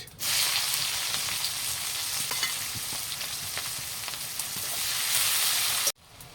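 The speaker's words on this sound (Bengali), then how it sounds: "তো পেঁয়াজ ভাজা হয়ে গেছে" Sliced onions sizzle in hot oil with cardamom, cloves, cinnamon, panch phoron and chili, a loud, continuous crackle with scattered stirring scrapes, cutting off abruptly near the end.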